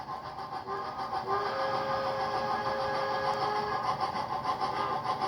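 A Proto 2000 HO-scale model locomotive fitted with a TCS WOW Sound decoder plays steady diesel engine rumble with a faint sustained horn-like tone, quiet and continuous from a small speaker.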